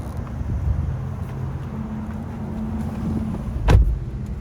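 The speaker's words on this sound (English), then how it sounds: "now we're gonna take it on a quick test drive to see how it performs right off the lift" A GMC Denali truck fitted with a 6-inch strut spacer lift kit rolls along on a test drive, its steady low engine and road hum heard from inside the cab, with a brief clunk near the end.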